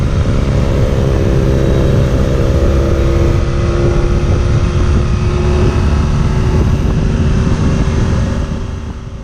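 A 2019 BMW R nineT Urban G/S motorcycle cornering on a road produces a loud, steady engine drone mixed with rushing wind noise that eases slightly at the end.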